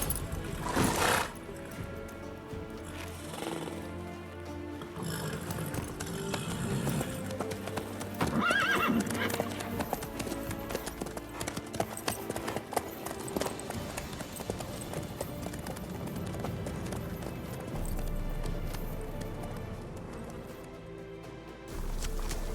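Galloping hooves clip-clop steadily beneath a horse's whinny in The Witcher 3, with game music and ambience running continuously underneath and the hoofbeats clear and fairly close.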